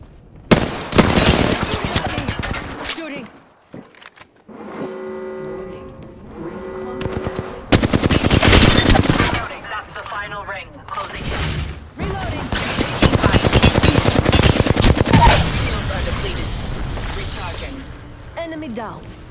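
Gunfire in the Apex Legends video game, with loud bursts of rapid automatic fire and a pause filled by game tones, then more sustained shooting, mixed with game announcer voices.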